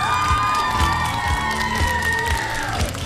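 An audience at a televised children's song show cheers and whoops for two backing vocalists, a dense crowd roar with children's shouts over sustained musical tones, loud and continuous throughout.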